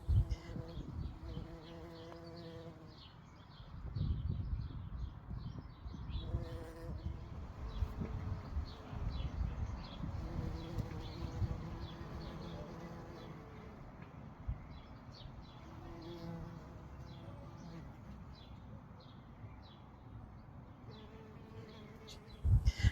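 Bees buzz around flowering ground-cover geranium in a May garden, a soft steady hum that swells and fades as insects move close and away, with faint birdsong behind and no talk.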